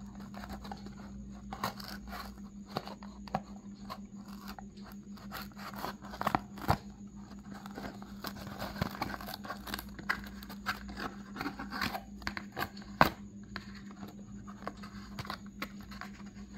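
Scissors snip and tear through the cardboard and plastic packaging of a Kinsmart Lamborghini Murcielago LP 640 die-cast car box, a string of quiet close crisp cuts and rustles at irregular intervals over a steady low hum.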